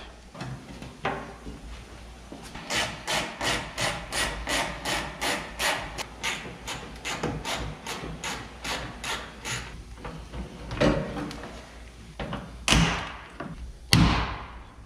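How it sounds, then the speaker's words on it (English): Interior trim on a modern car is pried and pulled off, producing a rapid series of scraping, rubbing strokes followed by louder thumps and plastic clip pops, close and fairly quiet. "I'm just going to strip a little bit of trim off and we'll get started seeing what we can do to push that out."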